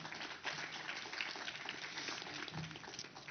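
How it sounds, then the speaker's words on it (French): Applause for the keynote speaker at an AI for Africa conference, a steady broad patter of many hands clapping, faint and distant in the room, running evenly throughout. "Merci Jean, applaudissez-le"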